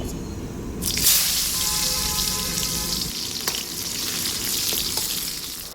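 Sliced onion drops into hot oil already holding whole spices such as cloves, bursting into a loud hiss that settles into a steady close sizzle with a few light utensil taps, and no talking.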